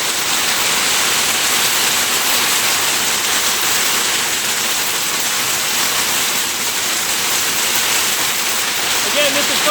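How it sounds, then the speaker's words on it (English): Steady heavy rain pours down during a thunderstorm, heard from a deck at Quake Shore as a loud, continuous wash of noise with no clear thunderclap standing out. "You can hear the rain coming down. The thunder."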